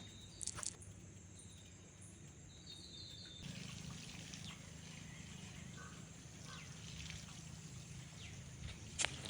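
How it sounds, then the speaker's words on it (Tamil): Water is poured onto potted garden plants outdoors, a steady soft trickle and splash that thickens partway through, fairly quiet, with a few birds chirping and faint clinks around it. "இப்போ வாங்க நம்ம செடிக்கெலாம் தண்ணி ஊற்றி விட்டுடலாம்."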